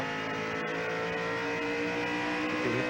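A NASCAR stock car engine heard onboard during the 1994 Slick 50 300 roars steadily as the car comes off a corner, a dense, continuous, loud drone with no talk.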